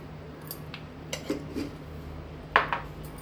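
Chicken liver is mixed with turmeric and salt in a pan, heard as a few sparse, close clinks and light scrapes of utensil against metal in a quiet room.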